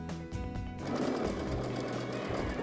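A sewing machine runs a triple straight stitch along a curvy applique stem, starting with a few slow stitches and then settling into a fast, steady, close mechanical chatter with no talking.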